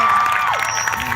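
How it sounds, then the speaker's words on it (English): A protest crowd in San Diego cheers and claps in a brief, dense burst, with loud shouts and whoops standing out over a steady wash of applause. "let's clap it up for"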